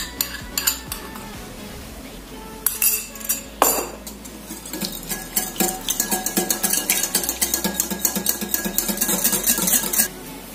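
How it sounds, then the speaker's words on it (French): Butter, milk and egg are whisked for beignet dough, a utensil clinking against a bowl, first in scattered taps, then in quick steady rhythmic strokes, close and crisp. "Je mélange d'abord le beurre et le lait."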